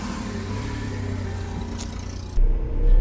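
A Datsun redi-GO small city car drives on dirt trails toward a beach, its engine giving a steady mid-pitched drone with rumble, then a louder surge near the end.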